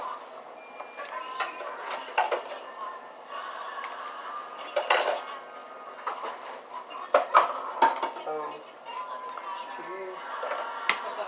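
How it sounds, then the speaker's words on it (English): A spoon mixing barbecue sauce into a chicken wrap filling in a bowl, with intermittent scraping and clinks against the bowl, close by and irregular, while someone talks over it. "we're just blending everything together with a spoon"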